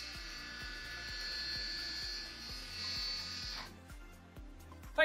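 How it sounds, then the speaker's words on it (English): A Rotork CK valve actuator runs its motor, giving a steady close electric buzz with a regular mechanical ticking pulse that continues, then the high whine drops away near the end. "it is always a good idea to run the actuator up and down a couple of times"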